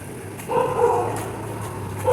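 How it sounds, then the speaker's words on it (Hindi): A dog gives a muffled, drawn-out bark or whine at moderate distance over steady background hum, with no talk over it. "तुम काहे को भौंक रहे हो? ये भौंक रहे थे।"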